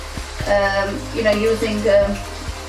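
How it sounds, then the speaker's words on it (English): Steady oily sizzling of eggplant frying in a kadai, with faint stirring scrapes and a voice murmuring in the background. "So the Baingan's been frying in the kadai for say about 5 to 6 minutes"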